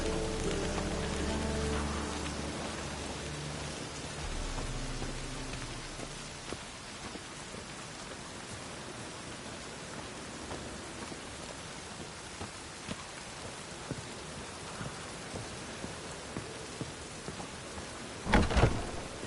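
Steady rain patters through a Witcher 3 game scene, a continuous hiss of drops with a brief louder burst near the end; no one speaks.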